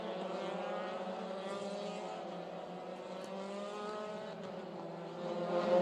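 Euroformula single-seater race cars at the Portimao circuit in Portugal, a sustained high engine drone holding steady for several seconds and swelling slightly louder at the end, heard from a moderate distance.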